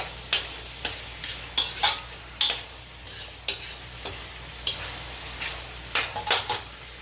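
Shrimp stir-frying in a pan for pansit canton: a steady sizzle broken by repeated sharp scrapes and clinks of a utensil against the pan, close and fairly regular, with no voices.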